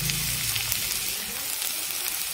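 Katla fish frying in a pan, a soft steady hiss of hot oil sizzling close by for a couple of seconds, no voices.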